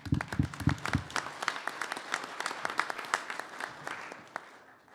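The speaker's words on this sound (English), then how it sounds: "You deserve an applause for that." A conference audience breaks into applause, starting with a few sharp, close claps that quickly thicken into a brisk, irregular patter before thinning out and fading at the end.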